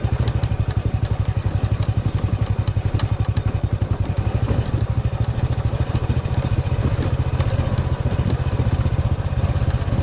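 A twelve-year-old Honda motorcycle putters along a rural trail road with a fast, even thumping beat and a light mechanical clatter, close and steady throughout.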